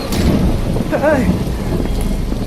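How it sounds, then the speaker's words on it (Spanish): A loud thunderstorm with dense, steady rain and gusting wind, plus a low rumble of thunder and a brief vocal sound near the middle. "Que es solo el viento y la lluvia, ¿no lo ves?"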